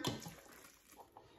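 A cup of water is poured into cake mix for cupcake waffles, a soft brief splash and trickle up close at moderate level, fading into faint liquid sounds.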